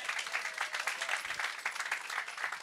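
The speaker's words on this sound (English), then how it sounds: "Let's give her another round of applause." A crowd claps steadily at an outdoor groundbreaking ceremony in Birmingham's Fountain Heights, a dense, even wash of many hands with no pause throughout the short stretch.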